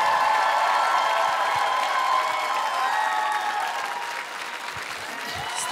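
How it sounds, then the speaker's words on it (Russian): A TV talent show studio audience applauds steadily and loudly throughout, a dense sustained wash of clapping that eases slightly toward the end. "ей тоже аплодисменты"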